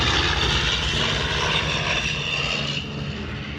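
A loud propeller aircraft droning close overhead at an air show, a steady roaring engine that thins slightly as it passes.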